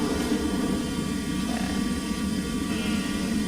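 An airplane on takeoff and climb-out gives a steady, loud, unbroken engine roar that holds at an even level throughout, with no talk.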